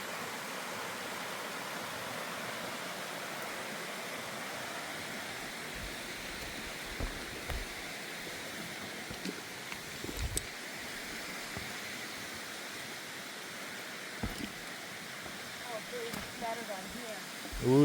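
Water rushes steadily down a rough rock water slide on the Appalachian Trail in North Carolina, a constant close hiss broken by occasional knocks and thumps.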